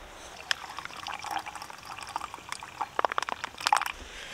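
Hot water is poured from above into a coffee brew bag of ground coffee at a wet wild campsite in Snowdonia, a close, thin trickle that turns to livelier splashing and dribbling near the end.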